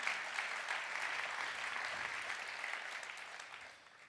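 Sustained audience applause at an awards ceremony, a dense, steady wash of many hands clapping that holds evenly for several seconds and then starts to thin and fade toward the end.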